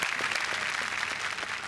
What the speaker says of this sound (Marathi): आणि निर्माते नरेन चव्हाण यांच्यासाठी जोरदार टाळ्या झाल्या पाहिजे.